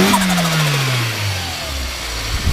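A turbocharged Nissan Micra K11 engine revs hard, then its pitch sweeps down steadily as it winds back toward idle, with a turbo flutter, loud and close throughout.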